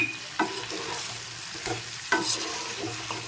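Spice mix being stirred into achari aloo dum, a potato curry with sour yogurt, in a pan: several distinct scraping strokes spaced over a low, steady frying sizzle, fairly close, with no talking.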